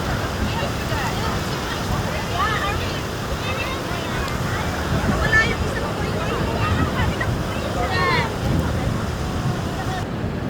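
Ocean waves roll in at Kata Beach in Phuket, Thailand, a rumbling surf wash with surges around the middle and later, muffled by wind on the microphone, with voices in the background.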